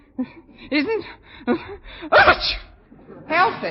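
A quick sneeze bursts out between stretches of talking, a single sharp explosive breath close by.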